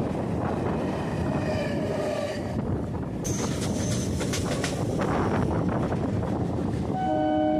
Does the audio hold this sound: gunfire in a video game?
no